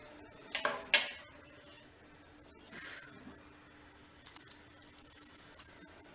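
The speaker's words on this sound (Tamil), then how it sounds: "இப்போ ஒரு இலையை உடச்சி பார்த்தீங்கன்னா அப்பளம் மாதிரி நொறுங்கணும் இலை." Dried herb leaves crushed by hand for a homemade joint-pain oil, giving brittle crackling and crunching bursts, a few sharp snaps early then scattered crinkles, close and fairly quiet.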